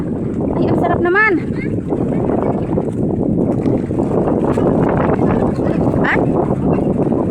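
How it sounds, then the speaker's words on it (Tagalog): Strong seashore wind roars steadily as broadband noise buffeting the microphone, with rough waves close by and brief voices talking over it. "Ang lakas-lakas ng hangin mga guys"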